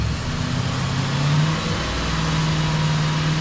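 Audi S8 engine held at a raised idle of about 2,500 RPM during service, a steady loud drone with a sustained low hum and a slight swell partway through, close by and with no talk.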